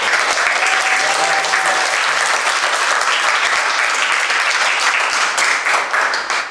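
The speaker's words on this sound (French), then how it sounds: "On peut les applaudir." Loud, close applause from wedding guests at a civil marriage ceremony, dense steady clapping throughout that tapers slightly at the very end.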